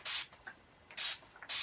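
Play Curl hair spray is sprayed onto dry hair in three short, hissing bursts with brief gaps between them, close and fairly quiet, and no talking.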